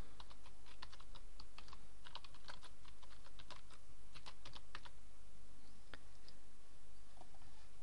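A computer keyboard is typed on at a steady, quick pace in brief bursts of crisp key clicks, close and clear over a constant low background hum, with no voice.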